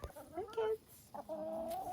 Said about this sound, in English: We have 27 laying hens, no roosters.